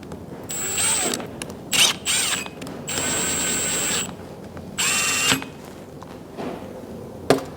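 A power tool snugs up the cam phaser bolts on a 507 engine, whirring in several short bursts of a few seconds each, loud and close, with gaps and light clicks between runs and no talking.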